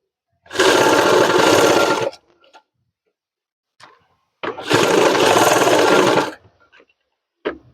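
Sewing machine stitching the back pocket of men's trousers in two loud, close runs of about two seconds each, separated by quiet handling of the cloth.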